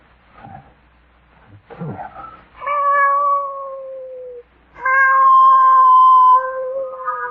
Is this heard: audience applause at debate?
no